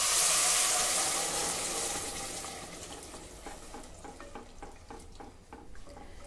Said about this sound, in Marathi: आता यामध्ये 2 वाटी नारळाचं दूध घालणार आहे